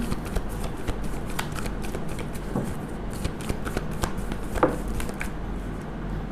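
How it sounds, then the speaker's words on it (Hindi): Tarot cards from the Major Arcana riffle-shuffled and drawn by hand, a steady run of soft papery flicks and snaps with one sharper slap near the end, close up and without speech. "पांच कार्ड लेंगे हम मेजर अरकाना से"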